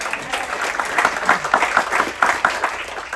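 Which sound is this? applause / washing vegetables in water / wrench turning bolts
applause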